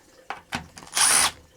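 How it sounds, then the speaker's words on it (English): A cordless drill fitted with a small adapter backs out screws on a power-vent water heater: a few short ratcheting clicks, then a brief, close whirring burst. "I got my drill and put my little adapter on here"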